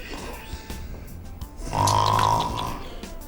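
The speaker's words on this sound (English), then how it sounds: "Has been snoring like an idiot." A woman snoring in one loud, drawn-out rasping breath, close and prominent, under a faint background murmur.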